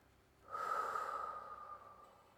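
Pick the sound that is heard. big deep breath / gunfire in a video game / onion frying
big deep breath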